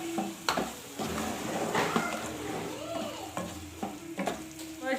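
Spices sizzle and fry in a hot pan while a spoon stirs and scrapes them, with a few sharp clinks against the metal.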